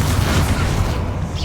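Confringo fire spell exploding in the Hogwarts Legacy video game: a dense, sustained low boom with rumbling crackle that fills the whole moment, loud and close, fading slightly toward the end.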